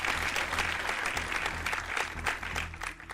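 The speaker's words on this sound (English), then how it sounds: "Give her a round of applause" Applause for a woman introduced on a live reaction stream, a steady wash of clapping held at an even level for a few seconds over a low, continuous hum or music bed.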